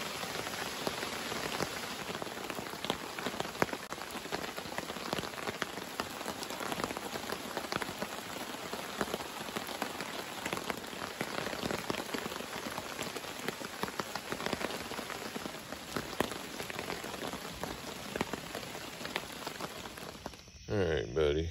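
Steady rain falls at a riverside campsite beside a campfire, a dense, even patter on surfaces that fills the whole stretch with no pauses.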